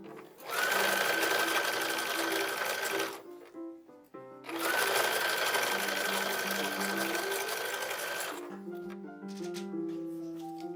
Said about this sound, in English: sewing together the strips so that we get one cohesive panel